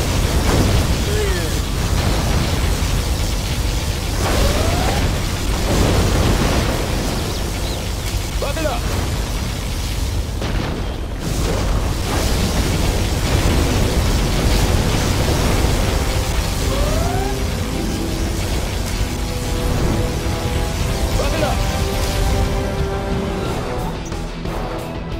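Particle cannon laser blasts and explosions in Command & Conquer Generals Zero Hour, a dense roaring wall of booms, bursts and crackling noise throughout, with game unit voices speaking over the din.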